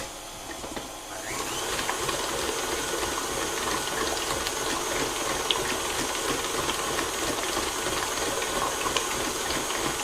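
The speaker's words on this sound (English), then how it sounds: "Always remember to turn your mixer down with a little spoonful of flour" An electric stand mixer beats lemon drizzle cake batter, a steady whirring motor hum with whining overtones running continuously, close and fairly quiet, with faint clinks against the bowl.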